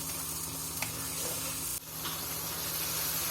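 Tomatoes for palak dal sizzle steadily in a hot pan, a soft continuous frying hiss with a brief stir or clatter midway and a short break before the sizzle resumes.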